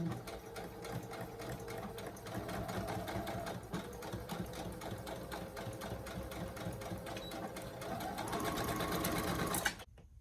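Sewing machine running steadily as it stitches t-shirt knit fabric on a regular home machine in place of a serger, a continuous close whirring with a rapid needle rhythm that speeds up near the end before stopping abruptly.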